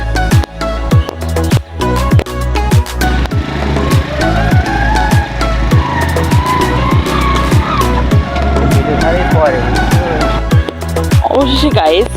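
A car driving along a rough road, engine and road rumble steady and close throughout, with repeated low thumps from bumps and some voice-like sounds mixed in.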